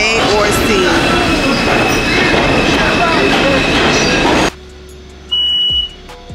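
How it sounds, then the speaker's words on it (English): A New York 5 subway train roars loudly with rumbling wheels and high squeals, then cuts off abruptly to a quiet hum with a short clatter. "So this is the 5 train."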